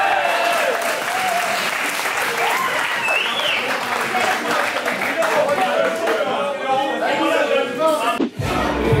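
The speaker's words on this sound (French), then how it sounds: "C'est ça, on peut l'applaudir bien fort, s'il vous plaît." Wedding guests applauding loudly, dense steady clapping mixed with cheers and whoops from the crowd throughout, with a brief dip near the end.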